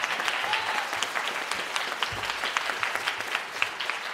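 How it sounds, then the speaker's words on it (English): Audience applause at a junior and senior high school spring band concert for a tenor sax soloist, dense steady clapping from a crowd throughout, with no talking over it. "Clap really loud"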